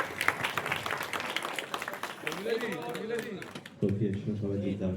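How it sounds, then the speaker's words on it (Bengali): Applause at the Projapoti 2 trailer launch, a crowd clapping in a dense patter, while an amplified voice speaks over it and music rises toward the end. "সবাই একবার জোরে হাততালি"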